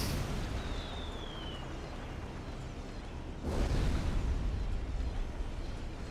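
Bombs dropped by T1 bombers burst in the strategy game Supreme Commander: Forged Alliance, a heavy rumbling blast swelling midway through a steady, noisy battle din.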